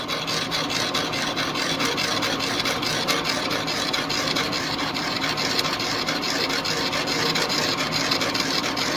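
A Clausing 8540 machine cutting a bronze arbor bushing at a slow, even feed, giving a constant loud grinding, rasping hiss that holds steady throughout, with no talking.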